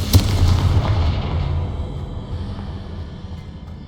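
A Confringo blast spell from the Hogwarts Legacy video game, a loud boom with a sharp burst at the start and a low rumble that slowly fades.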